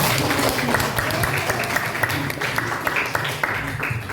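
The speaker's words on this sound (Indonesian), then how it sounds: "Oke, kita tepuk tangan untuk pembelajaran." A school class claps together at the end of a lesson in Indonesia, a dense, fairly close burst of hand claps with voices talking over it.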